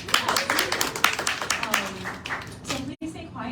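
An audience at a literary journal issue release reading claps for the ASL interpreter, a dense burst of applause that fades out after a few seconds while a voice carries on over it.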